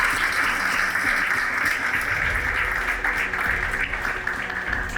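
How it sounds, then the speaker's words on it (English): Audience applause for participants in a competition, a thick, even wash of clapping from many hands, sustained and fairly loud for the whole stretch. "they deserve a huge round of applause for their wonderful participation"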